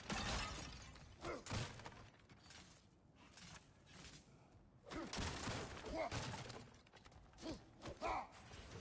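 Objects being smashed and shattering in God of War, a faint, busy run of cracking, crunching breaks and thuds, with clusters of impacts scattered throughout and heavier debris near the end.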